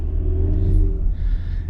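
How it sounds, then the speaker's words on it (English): A Mercedes GLE350's small turbocharged four-cylinder engine accelerates with a steady, close, low rumble and a mild rising whir, with no voices. "this little ratty 4-cylinder is not good"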